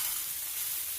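Wheat grains roast in a hot pan, giving off a steady, soft hiss of dry sizzling and faint stirring with no voices.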